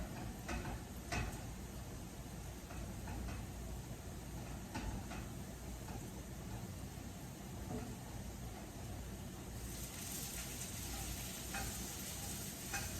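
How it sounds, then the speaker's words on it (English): Food sizzles steadily in a hot pan during home meal prep, a continuous close frying hiss with a few light scrapes and clinks as it gets stirred partway through. "We're gonna give this another stir."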